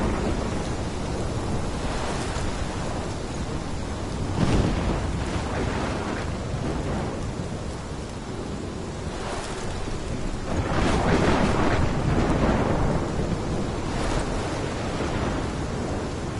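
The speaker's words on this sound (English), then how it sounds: "This is my storm." Thunderstorm in the video game Life is Strange: heavy rain roars continuously while deep rolls of thunder swell and crack repeatedly, loud and close, with no voices.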